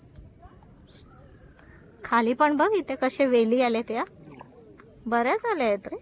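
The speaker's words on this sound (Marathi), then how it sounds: "इथे पुढे आली आणि रातकिड्यांचा आवाज येतोय." Crickets chirp near mangroves on a Konkan creek while kayaking, a constant high shrill drone running throughout, under nearby voices talking.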